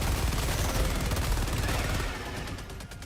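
Rapid automatic fire from a Stalwart machine gun in a sci-fi shooter, a loud continuous stream of shots at high rate that thins and trails off toward the end.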